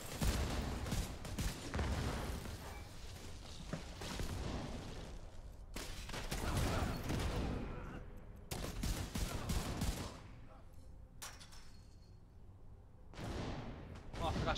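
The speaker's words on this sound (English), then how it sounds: "Oh, it's shooting me." Video game gunfire rolls in dense, heavy bursts with booming blasts during a raid operation, loud and close, as a voice talks over it.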